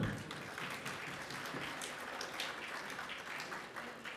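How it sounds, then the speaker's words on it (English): An audience at a wellbeing talk claps steadily for several seconds, a dense even patter of many hands close to the microphone. "Give him a clap."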